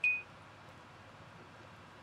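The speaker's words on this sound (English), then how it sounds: "There's my phone." A single short phone beep at the very start, moderately clear, then only low room hum with no talking.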